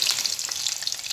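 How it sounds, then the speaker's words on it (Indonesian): Food fries in a pan of hot oil with a dense, steady crackling sizzle, close and continuous, no voices. "Aku goreng dulu ya."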